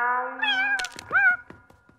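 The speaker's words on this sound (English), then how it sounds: "C for cat." A cat meows in a nursery-rhyme song, giving a long drawn-out cry followed by a shorter rising meow, close and clear with a few soft clicks between them.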